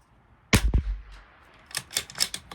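A rifle fires a single CCI Standard Velocity round at a 100-yard target, giving one sharp, close crack with a short tail. A few light mechanical clicks follow afterward.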